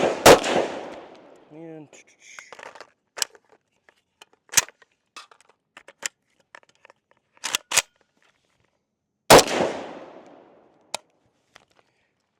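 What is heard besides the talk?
Zastava M92 rifle firing reloaded rounds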